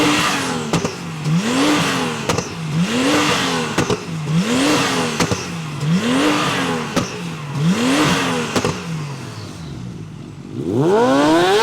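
A tuned Porsche 911 Turbo S flat-six revs repeatedly, about seven sharp blips rising and falling in a steady rhythm, loud and close, ending with a longer climbing pull.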